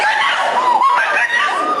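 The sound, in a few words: woman screaming during live news broadcast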